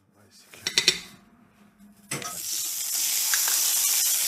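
Pork belly searing in a hot pan, its loud steady hiss rising sharply and holding after a few clattering clinks of pan and utensils at the start.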